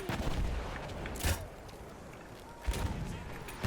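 Mortar bombs fired in the World War I shooter Battlefield 1, two heavy booming shots spaced about a second and a half apart over constant battlefield rumble and distant gunfire.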